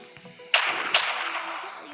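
Two sharp gunshots ring out about half a second apart in a mobile sandbox war video game, each followed by a long fading echo over a faint background.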